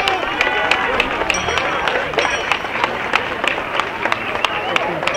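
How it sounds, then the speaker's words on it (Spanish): Loud, close crowd applause rings out for the Señor de la Salud procession, dense clapping with sharp individual claps standing out, mixed with cheering voices and hubbub over about five seconds. "aplauso para el Señor de la Salud"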